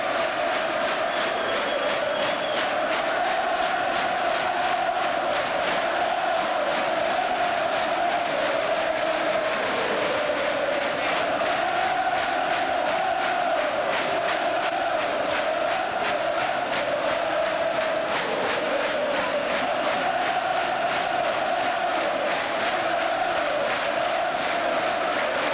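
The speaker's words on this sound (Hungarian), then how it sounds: "Tombol a körmendi közönség" Home crowd at a Körmend basketball final in 1996 roars continuously and loudly throughout, a dense, sustained wall of cheering and shouting with no break.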